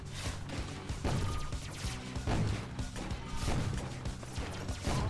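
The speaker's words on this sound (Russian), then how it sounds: "Больше всего наносят урон вот эти вот взрывы" Explosions from the car game Mad Day 2 (Car Eats Car) come as loud, dense crashes and thuds, bursting again and again over a constant roar of game noise.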